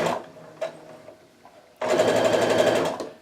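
Home sewing machine chain piecing quilt block pieces: a few faint clicks and handling, then a close, rapid, steady mechanical stitching run lasting over a second.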